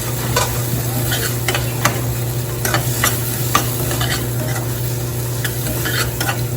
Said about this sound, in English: I'm going to add green peas, and I'm going to mix this